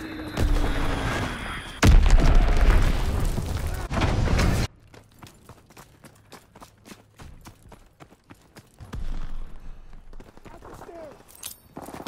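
An enemy bomb going off in a WWII resistance video game: a loud, broadband blast and rumbling debris fill the first few seconds, then the scene drops to a quieter bed of scattered clicks and faint game sounds, with voices present.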